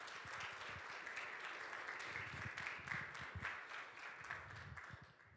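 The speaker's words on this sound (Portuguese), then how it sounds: "Vamos receber o Wesley com umas palmas." Audience at an evening talk applauding to welcome a speaker, steady dense clapping heard from a distance, faint and continuous, fading away at the end.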